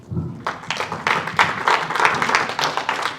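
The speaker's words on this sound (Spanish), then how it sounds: "Denle un aplauso al Señor" Church congregation applauding, a dense patter of many hands clapping steadily throughout at moderate volume, with faint voices mixed in.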